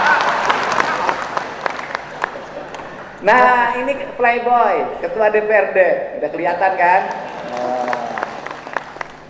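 An audience at an official gathering claps in quick bursts beneath someone speaking into a microphone, and the applause fades as his talk takes over.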